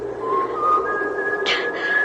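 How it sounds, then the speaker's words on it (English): In an old radio drama, someone whistles a thin, steady tone that steps up to a higher held note, with a brief hissy burst partway through against a low background hum. "and then I heard someone whistling"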